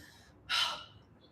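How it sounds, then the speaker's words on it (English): A single sharp, breathy gasp or heavy exhale from a person tired after a kettlebell lower-body workout, close and brief against a quiet room. "Apologize for the breathing."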